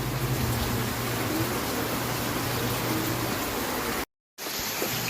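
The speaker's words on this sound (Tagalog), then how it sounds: "Umuulan na naman oh, walang tigil." Heavy, unbroken rain pours down in a steady broadband wash, loud and close, with a brief total dropout near the end before the downpour resumes.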